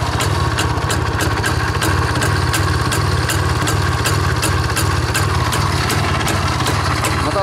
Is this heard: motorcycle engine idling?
yes